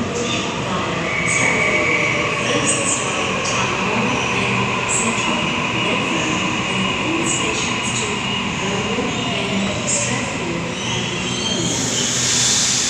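A train at Wynyard station platform 6 rumbles steadily throughout, with wheel squeal and occasional high metallic screeches, loud and close with no talk.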